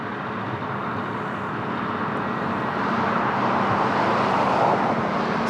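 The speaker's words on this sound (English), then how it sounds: "really nice takeoff of his jets with a new livery" A jet airliner in new livery takes off at Lisbon Airport, its broad engine roar steady and fairly distant, swelling slightly louder in the second half with no voices.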